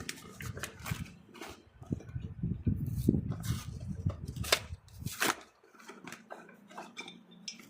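Original Yamaha brake linings for a Yamaha Nmax 155 are handled and set down, giving a series of light metallic clinks and rattles at close range with soft shuffling between them.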